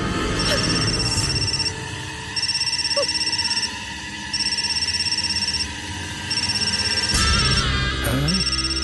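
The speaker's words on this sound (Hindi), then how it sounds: "इसके बेटे का फोन है।" A telephone rings in a tense scene of a Ram Charan action film, repeating electronic ring bursts in a steady on-off pattern, loud and close, with low background sound beneath.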